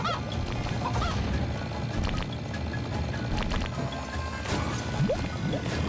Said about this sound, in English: Evil chicken.